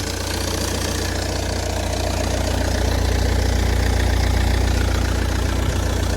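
A Volvo C30 engine idles steadily with a noisy alternator belt, a close, continuous low hum and mechanical rumble with a faint rhythmic chatter and no talking.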